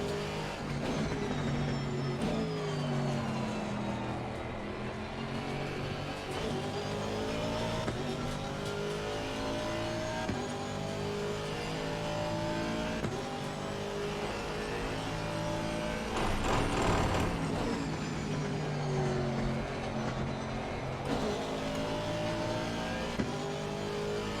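Race cars, a McLaren among them, battle in Assetto Corsa Competizione; several engines rise and fall through gear changes, with sweeping revs and a faint tire squeal in a dense, continuous roar.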